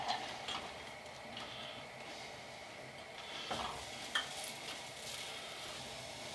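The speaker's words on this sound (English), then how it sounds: "we're going to saute 1 onion, 1 carrot," Onion, carrot and celery sauté in a teaspoon of oil for vegan stuffed peppers, a soft steady sizzle broken by a few light stirring clicks and scrapes of the pan.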